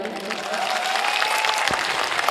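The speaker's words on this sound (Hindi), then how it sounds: "पहले तो उसके लिए एक बार जोरदार ताली।" A crowd in a hall gives loud, continuous applause that holds steady for the whole stretch, with a faint tonal ring running beneath it and a few stray voices mixed into the clapping.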